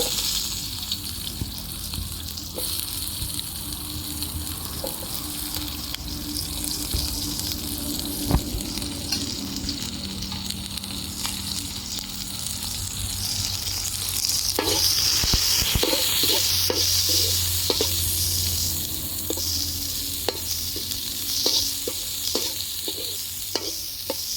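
Onions frying in oil with popped mustard seeds in a pan for lemon rice, cooked in a rural kitchen. A continuous sizzle with scattered crackles and scraping stirs sounds close and steady, with no talk.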